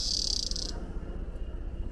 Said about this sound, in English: I can hear lots of cicadas in here too